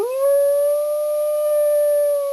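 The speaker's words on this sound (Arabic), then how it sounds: "ذئب" A wolf gives a single long steady howl, loud and close, holding one pitch for over two seconds before cutting off.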